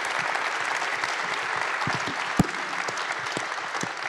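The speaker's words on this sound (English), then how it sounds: "I would like to ask the audience to give a big round of applause for our panelists" An audience at a space entrepreneurs event applauds its panelists, a steady wash of many hands clapping at moderate loudness, with scattered louder claps standing out and no talking.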